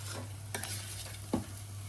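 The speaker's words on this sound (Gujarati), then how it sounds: "લીલું લસણ કોથમીર મરચા અને સૂકું લસણ થી ભણું વઘારેલો" Green garlic, coriander, chillies and dry garlic tempered in a pan, giving a close, continuous sizzle under stirring, with a sharper scrape near the end and no talking.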